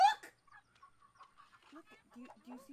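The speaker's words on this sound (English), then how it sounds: "It's a chicken!" A chicken in a farmland area of a video game gives a few short, soft clucks under a quick, excited voice talking over it.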